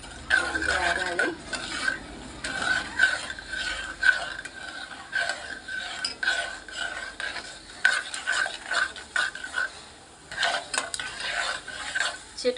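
Mustard seeds and cumin crackle in hot oil, with sharp scattered pops over a soft sizzle, broken by metal utensil scrapes and clinks from stirring close by.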